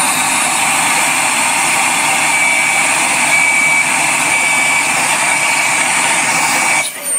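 A Bosch GAS 18V-12MC cordless vacuum runs with a loud, steady whine, and its clog alarm sounds as a repeating series of short high beeps over the motor before the noise cuts off near the end.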